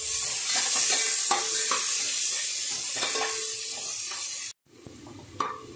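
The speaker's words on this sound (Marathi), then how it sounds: "कांदा लसूण मी परतला आहे 1 मिनिट" Crushed garlic and finely chopped onion sauté in a pan with a steady sizzle, broken by repeated scraping stirs and a brief pause near the end.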